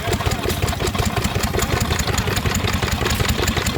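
A stationary engine drives a Bentall corn mill at a Victorian extravaganza, its steady rapid chugging beat running loud and close throughout.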